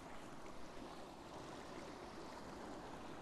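Flowing water of the Ganges high in the Himalayas, a steady broadband rush that stays even and fairly quiet throughout, with no voices.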